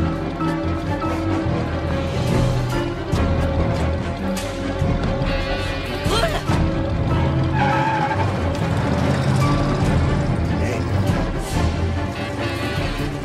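A car speeds off with tires skidding and squealing, its engine revving loudly over a busy, noisy mix, with brief bursts of screeching throughout.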